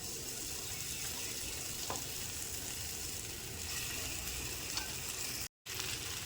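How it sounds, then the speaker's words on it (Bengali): Boiled potato frying in hot oil gives a continuous loud sizzle with faint occasional scrapes and stirring clicks, alone without any talk, broken by one brief dropout near the end. "তেলটা আমার গরম হয়ে গেছে এবার এর মধ্যে সিদ্ধ করা আলুটা আমি দিয়ে দেবো"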